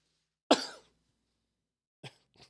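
One sharp, fairly loud cough rings out in a quiet room, followed a moment later by two shorter, softer bursts.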